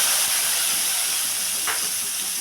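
Whole cumin seeds and a prepared spice paste hit hot oil in a pan while prawn and taro curry is being cooked, giving a loud, continuous sizzling hiss close up that keeps going with no talking.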